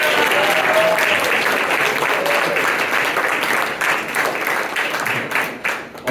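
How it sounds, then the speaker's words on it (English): Young Conservatives of Texas convention-goers in Dallas give a round of applause, a loud, even rush of many hands that thins and turns patchier toward the end, with no speech over it. "give another round of applause for them"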